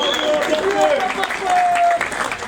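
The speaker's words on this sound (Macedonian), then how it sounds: "Еве го тука еден аплауз, молам." Audience applause at a rap concert, a crowd clapping steadily in the background while a voice speaks over it and faint tones sound through the clatter.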